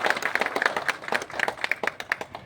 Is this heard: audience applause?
yes